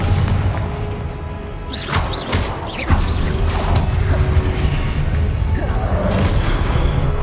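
The Confringo fire-blast spell in Hogwarts Legacy combat sounds as loud booming explosions with whooshing bursts over a dense, constant game soundtrack, several impacts landing in quick succession.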